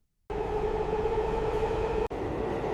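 A subway train rolls along with a steady, loud rumble and a droning hum, continuous from start to finish apart from one brief dip near the end.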